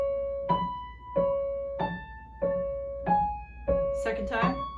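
Slow piano riff, six separate notes or chords struck at an even, unhurried pace, each ringing and decaying before the next, close and clear.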